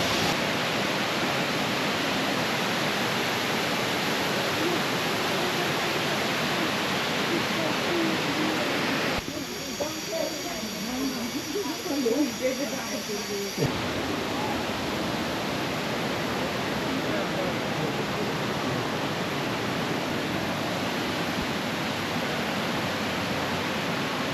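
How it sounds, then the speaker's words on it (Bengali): The Elephant Falls waterfall in Shillong, Meghalaya, a three-tiered cascade, roars as a steady, loud rush of water close by. A short stretch midway briefly takes on a different, slightly uneven texture before the full roar returns. "যেন এতটা ক্লিয়ার শোনা যাচ্ছে জলের আওয়াজটা"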